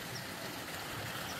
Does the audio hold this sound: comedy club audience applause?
no